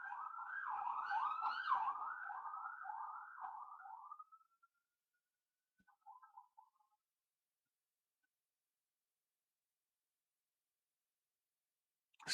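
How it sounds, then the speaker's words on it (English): A wailing emergency siren rises and falls loudly for about four seconds near a T20 cricket match in Trinidad and Tobago, then fades to a few faint distant whoops before silence. "Sirens in the background"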